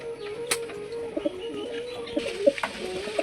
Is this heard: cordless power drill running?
no